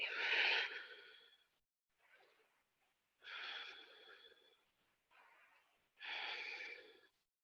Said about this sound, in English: Breath in for 3, out for 3.